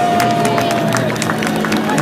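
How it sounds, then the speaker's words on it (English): A large outdoor crowd at the Chicago Air & Water Show claps and cheers for emergency crews, with a lively mix of hand claps, voices and babble, while a steady tone hums underneath. "I think they deserve a round of applause"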